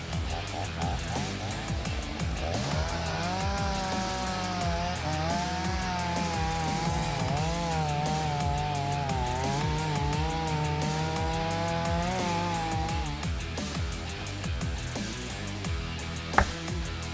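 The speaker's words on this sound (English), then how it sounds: "The chainsaw machine's precision and cutting power have defined the logging industry" A chainsaw on a logging machine cuts through a tree, its engine holding a steady, loud whine that rises and wavers under load for several seconds before dropping back toward idle, with one sharp crack near the end.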